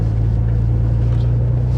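An Alfa Romeo 164 with its V6 Busso engine runs while driving, a steady low droning hum inside the cabin, even and continuous with no talking.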